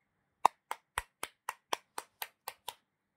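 Ten sharp hand claps in a steady, slightly quickening rhythm, close and crisp, each with a short decay, heard alone without talk.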